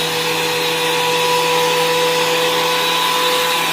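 A DeWalt DW734 thickness planer feeds an oak board through, a loud, steady machine roar with a sustained high whine, continuous and close throughout without any voices.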